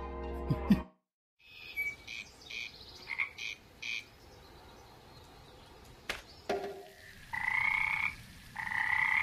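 Frogs at a lake in the game Memoranda croak in scattered bursts, some short and chirpy, others longer and louder, with quiet gaps and a faint insect-like background between calls.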